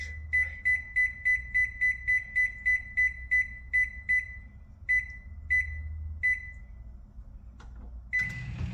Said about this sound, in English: So air fryer, start, and I'm gonna make sure I hit the minute button